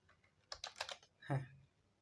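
Keys tapping on a computer keyboard in a short uneven burst of clicks, followed by a brief louder sound, close and fairly quiet.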